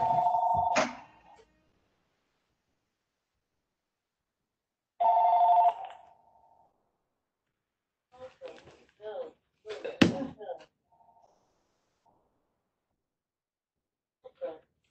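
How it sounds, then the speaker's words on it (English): A home telephone in a house rings in two loud, close bursts a few seconds apart, followed by scattered knocks and clatter. "Phone call in my mother's house where I am recording, and I don't know how to turn off her phone."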